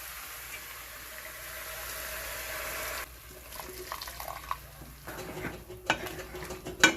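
Water poured into a pot of chicken curry, an even hiss and splash for a few seconds, then dipping into stirring clinks and bubbling, closer and louder toward the end.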